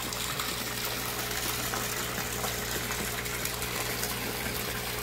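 A 1.3 horsepower water pump filling a biofloc fish pond, heard as a strong, continuous gushing rush of water with a steady underlying mechanical hum, close and loud throughout.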